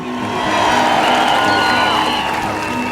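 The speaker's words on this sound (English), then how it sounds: "Countries like Jamaica, who recognized the state of Palestine last week, applaud Jamaica." A large crowd at an outdoor national march for Palestine claps and cheers, a loud sustained roar of applause with scattered whoops rising over the first half second and holding steady.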